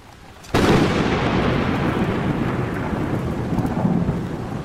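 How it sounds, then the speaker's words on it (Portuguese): A thunderous rumble like many stones striking inside a cave bursts in suddenly and loudly, then rolls on as a dense, sustained roar that slowly eases off. "Um estrondo como de muitas pedras batendo se ouviu dentro da caverna."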